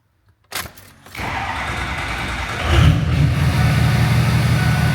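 An old Ford truck engine cranks briefly, catches and starts, then settles into a steady run before the revs rise and hold at a louder, rougher pitch, close up with no talking.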